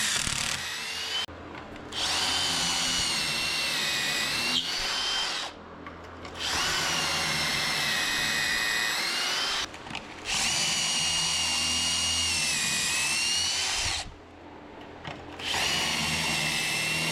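A power drill bores pocket holes into 2x4 lumber for a patio chair, with long loud whining bursts separated by brief pauses, four runs in all.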